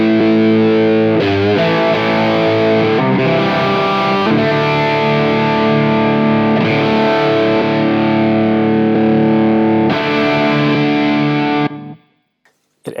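Electric guitar played through an Xotic EP Booster pedal, warm and slightly boosted with some grit; sustained chords ring out loud and close, stopping near the end.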